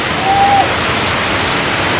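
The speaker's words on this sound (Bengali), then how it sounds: "আস্তে আস্তে বৃষ্টির গতি বাড়তেছে" Steady rain hisses over a Bangladeshi village as it grows heavier, a dense even patter with a brief high thin tone near the start and no voices.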